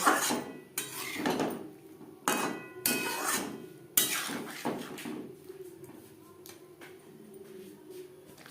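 Vegetables and peas stirred with spices in a cooking pot for navratan korma, with a series of loud metal spoon scrapes and clanks against the pot, then quieter stirring.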